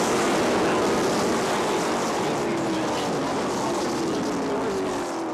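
A pack of stock race cars roars around Watermelon Capital Speedway, a dense, loud engine drone with a slowly falling pitch as they sweep by, and commentary running over the noise.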